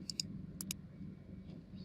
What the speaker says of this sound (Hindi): नंबर 2 पर हम क्लिक करेंगे